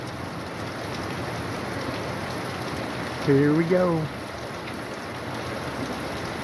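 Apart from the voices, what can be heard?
rain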